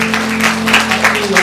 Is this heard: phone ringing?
no